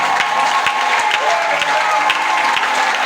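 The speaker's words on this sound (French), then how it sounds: "je veux que tu acclames très fort le Seigneur Jésus" A congregation at a church service cheers and applauds for Jesus. Dense, steady clapping and crowd noise run the whole time and stay loud and continuous.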